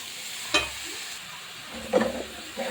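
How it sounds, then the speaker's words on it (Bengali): Young radish greens fry in a pan and get stirred, making a low background sizzle broken by two brief scraping clatters of the utensil, close and fairly quiet, with no talking. "এটাকে আমি একটু নেড়ে চেড়ে, নাড়তে চাড়তে কমে যাবে"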